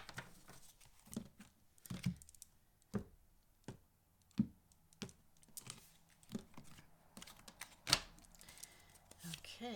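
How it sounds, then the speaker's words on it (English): Close, irregular flicking and riffling of tarot cards being shuffled, crisp papery clicks coming in short bursts with brief pauses between them. "let's just finish shuffling up your cards"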